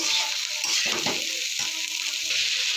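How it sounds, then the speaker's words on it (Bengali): Beans, capsicum and carrot are stir-fried in a pan, giving a continuous close sizzle with a few clattering stirring strokes mixed in. "এই ক্যাপসিকাম আর গাজর দিয়ে একটু নেড়ে নেব।"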